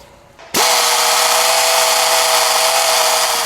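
Electric drill boring a hole to fit an HID fog light bulb on a 2004 Honda Element, starting abruptly after a brief quiet moment and then running as a loud, steady whine with a constant pitch and no talk.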